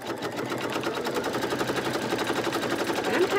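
An embroidery machine stitching a bunny design for a table centrepiece makes a rapid, even needle chatter that holds at a steady, fairly loud level throughout.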